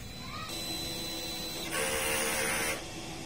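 A steady mechanical whir from a DTF printer running a head-cleaning cycle, rising into a louder hissing, pumping stretch mid-way before settling back to a constant drone.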